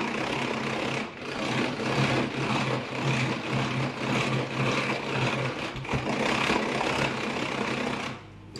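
A Tupperware kitchen mixer runs at speed 1 with a steady, continuous mechanical whir and low motor hum, blending chocolate cake batter powders. The drone stays even throughout, dipping briefly near the start and fading at the end.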